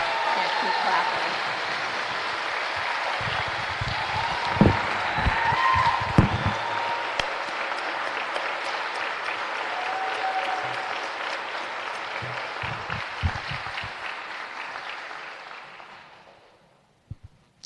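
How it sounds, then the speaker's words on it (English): Audience at a nursing school pinning ceremony applauding at length, a broad sustained round of clapping in a large hall with a few louder claps and faint voices, fading out near the end. "Graduates, please stand for one round of applause."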